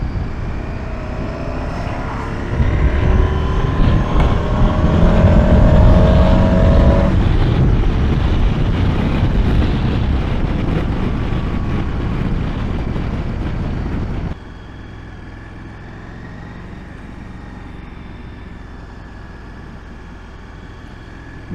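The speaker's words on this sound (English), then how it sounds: "so far it's a pleasure riding this bike" Engine and wind roar of a 2021 KTM Super Adventure motorcycle on the move, loud and steady throughout, rising in intensity early on and then dropping to a lower, quieter drone partway through.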